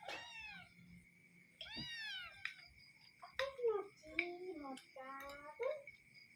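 A cat meows repeatedly near the microphone, about half a dozen short, clear cries in quick succession, with a faint steady hum and a little background voice between them.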